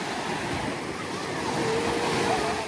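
Strong ocean waves surge and wash onto a sandy, rocky beach at Kuza Beach Park in Cozumel during stormy weather, a loud continuous roar of surf with wind noise that swells slightly toward the end.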